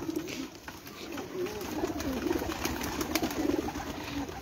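Pigeons coo in a steady, layered chorus of soft low throaty calls, fairly close and continuous, with faint background noise and occasional brief voices.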